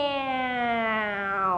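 A human voice imitates a cat's meow, one long drawn-out sustained tone that slowly falls in pitch, heard alone.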